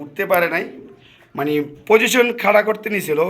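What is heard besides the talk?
No everyday noise stands out behind the speech.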